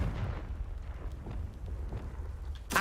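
The Confringo fire spell going off in Hogwarts Legacy gives a low, continuous rumbling blast that ends in a sharper burst at the close.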